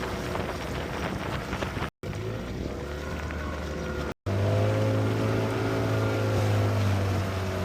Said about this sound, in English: I'm gonna take the dinghy in now